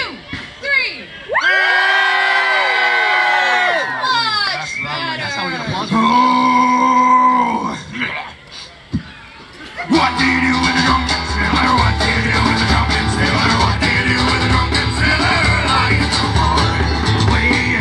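A large crowd of children shouts and cheers at full volume, with high whoops and sustained yelling rising and falling, then a dense roar of voices continuing to the end.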